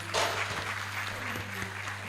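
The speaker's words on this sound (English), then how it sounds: "We can give more clap of applause." Audience applause at a health forum, a steady round of clapping from a seated crowd that holds at an even level, with a low electrical hum underneath.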